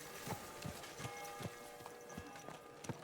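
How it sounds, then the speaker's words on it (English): A horse's hooves clip-clop at a steady walking rhythm while riding in Kingdom Come: Deliverance II, about eight distinct hoofbeats with a faint background hum, no talk. "Is this your first time riding a horse, you moron?"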